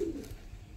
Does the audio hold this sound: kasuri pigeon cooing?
yes